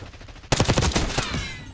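A rapid burst of automatic gunfire in Call of Duty Black Ops starts abruptly after a quiet moment, a loud, close string of shots that decays into a brief reverberant tail.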